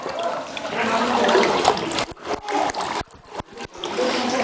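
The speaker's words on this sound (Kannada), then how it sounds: "ಎಲ್ಲ ನ್ಯಾಚುರಲ್ ಆಗಿ ನೀರು ಬರುತ್ತೆ. ಎಂಥ ಬೇಸಿಗೆ ಇರಲಿ, ಮಳೆಗಾಲ ಇರಲಿ, ಚಳಿಗಾಲ ಇರಲಿ, ಸತತ ನೀರು ಬೀಳ್ತಾ ಇರುತ್ತೆ." Natural spring water falling continuously at the ancient Parasgad Fort, a steady close gushing splash that breaks into choppy bursts partway through, with voices talking nearby.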